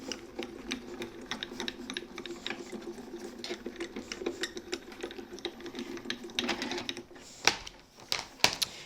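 A die-cutting machine is cranked by hand to cut card on a junior plate, giving a continuous ratcheting, clicking mechanical rumble with a few sharper clacks near the end.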